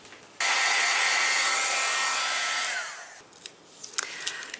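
A handheld hair dryer blows over a handmade textured paper craft tag with a loud, steady airy roar. It cuts off after about three seconds, leaving a few faint clicks and handling taps.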